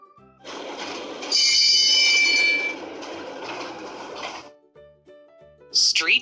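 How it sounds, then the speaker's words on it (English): Streetcar running on rails, with a steady rolling rumble and bright metallic squealing, then a brief chime after it stops. "Streetcar."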